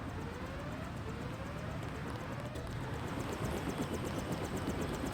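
A helicopter in the 2000 video game Deus Ex gives off a steady, dense rotor and engine drone with faint rhythmic chopping on top, constant and fairly distant-sounding, with no speech.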